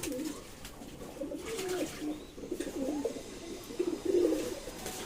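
Several pigeons at a loft coo close by while bathing, low, throaty, repeated calls overlapping irregularly against a faint background hiss.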